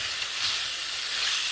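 Onions sautéing in a pan for a kurma, a steady bright sizzle and hiss with no pauses, close and fairly loud, heard alone.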